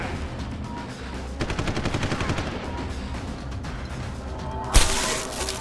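Gunfire in the video game Deus Ex: Human Revolution, a steady burst of rapid shots over a busy combat mix, ending in one loud, sharp crack near the close.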